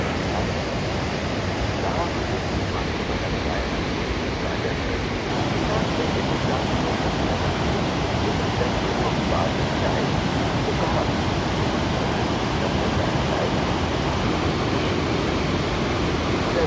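A waterfall near the Anusuya Mata temple roars in a steady, dense wash of falling water, close and loud, unchanging for the whole stretch with no voices over it.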